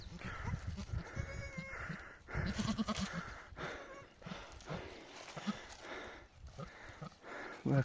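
Sheep and goats on a mountain, with a newborn lamb nearby: several bleats at varying distances, occasional hoof clatter, and people talking over the flock in an open outdoor setting.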